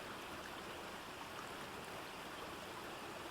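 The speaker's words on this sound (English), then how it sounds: "The sound of a babbling stream became audible." A babbling jungle stream flows in a steady, continuous wash of rushing water, soft and even throughout with no voices.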